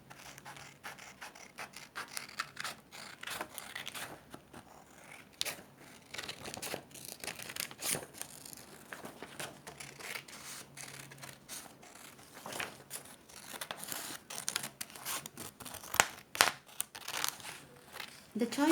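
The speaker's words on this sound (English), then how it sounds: "Let's just cut this now we need to cut the circle." Scissors cutting a paper circle for festival decorations, a dense run of crisp snips, crinkles and rustles of the sheet up close, with a voice talking quietly over parts of it.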